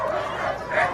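Sled dogs at the start of a race bark and yip eagerly, tight bursts of loud nearby barking that overlap with no break over about one second.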